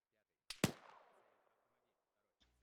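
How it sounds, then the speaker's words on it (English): Gunfire at a field training exercise: two sharp, loud shots in quick succession with a long ringing echo that fades out, then a faint click near the end, with no voices over it. "And somebody's shooting"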